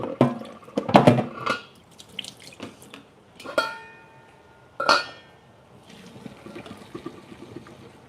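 Cooked chickpea pasta is drained over a kitchen sink, water splashing and trickling in irregular spurts with clattering of the pot and strainer, fairly close and moderately loud.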